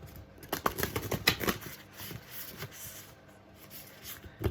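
Kali Oracle cards are shuffled and riffled close up in quick, papery bursts, with softer rubbing and tapping between them.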